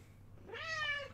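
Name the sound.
cat meowing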